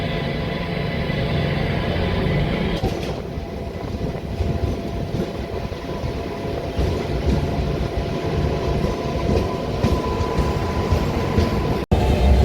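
A local MEMU train pulls out of Ramanapet railway station, heard from on board as a steady, broad rumble with faint rhythmic clatter of wheels on track throughout.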